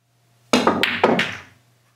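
A pool cue strikes the cue ball low for a draw shot, a sharp knock followed by a second quick clack as the ball lands and bounces, both close and clean in a quiet room.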